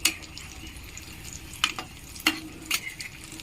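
Egg cutlets frying in oil until browned, a quiet continuous sizzle with occasional sharp clinks and scrapes of a utensil turning them in the pan.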